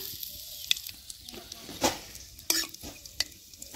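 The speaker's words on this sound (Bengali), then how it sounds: "তেল গরম হয়েছে এখন দিব গোটা জিরা তেজপাতা এলাচ আর লং" Whole cumin, bay leaf, cardamom and cloves crackling in hot mustard oil in a village kitchen, a soft continuous sizzle broken by a few sharp pops and spoon scrapes.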